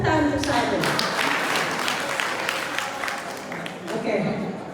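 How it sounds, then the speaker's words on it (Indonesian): A group of teachers claps as a crowd in a room, the applause fairly full at first and then thinning, with voices chattering through it. "Tepuk tangan untuk saya."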